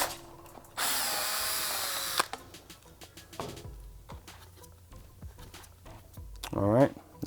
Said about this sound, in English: if you drill too fast, you melt the plastic and you end up with a big burr on the other side. If you drill slow, it'll be easier to clean.